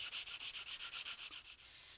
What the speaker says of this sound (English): We can also sand the launch escape system tube as well.